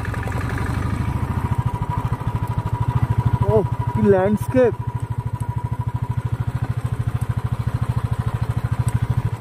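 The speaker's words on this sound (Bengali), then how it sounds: "আমার বাইক চালাতে চালাতে ভিডিও করছি।" Motorcycle riding along a rough road in Zanskar, its engine putting out a steady close, pulsing drone while a voice briefly exclaims over it.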